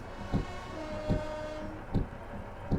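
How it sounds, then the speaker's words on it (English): Train whistle from a locomotive in Trainz Railroad Simulator 22, a long sustained tonal blast under a rail background, with four heavy periodic thumps of wheels over rail joints at a steady rhythm. "And you also want a whistle."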